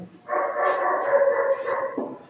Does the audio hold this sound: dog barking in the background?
yes